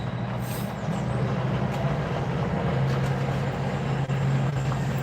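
A train passing near a highway, heard as a steady, loud rumbling drone with a low hum and traffic wash throughout, no talking.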